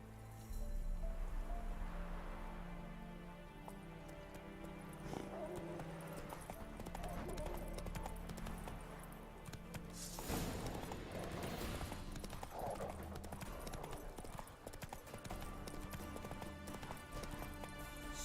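Galloping horse hooves in The Witcher 3, a steady clip-clop rhythm running throughout over game music and ambience, with a brief whinny-like flourish midway.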